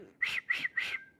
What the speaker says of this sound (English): Can you whistle? I can't.